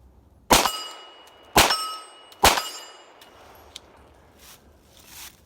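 Pistol rounds striking a 10-inch steel plate at 25 yards, three sharp ringing metallic clangs about a second apart, each with a short decaying ring, followed by fainter knocks.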